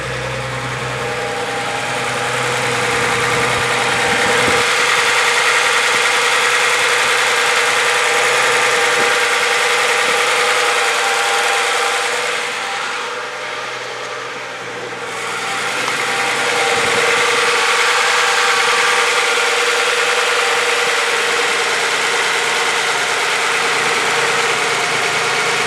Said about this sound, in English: now it's running closer to normal. It's not idling as high as it was.